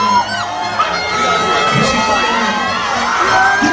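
A crowd cheering and shouting at a live event, a dense continuous roar of excited voices with whoops, loud and close throughout.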